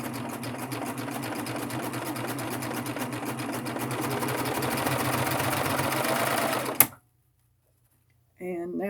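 A Baby Lock Triumph overlock serger runs at speed through four layers of folded denim, a loud, steady mechanical whir with fine rapid ticking that cuts off sharply, followed by silence and then a brief voice.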